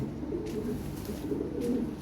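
Soft, low cooing from fancy Lahore pigeons rolls on repeatedly against a constant background hiss, fairly close.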